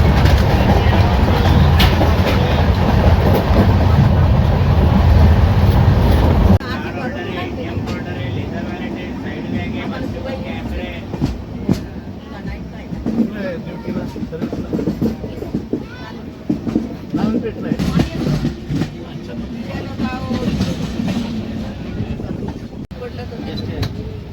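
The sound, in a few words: Nanded to Pune Express train running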